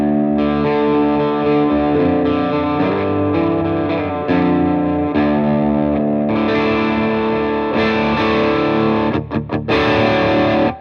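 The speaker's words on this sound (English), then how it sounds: "I'm going to push the pre and see how much gain we can get out of the amp" Electric guitar played through a Peavey Classic 20 combo amp with the preamp gain pushed, giving a loud, heavily distorted sound with sustained chords and notes, some reverb, and a few choppy stabs near the end.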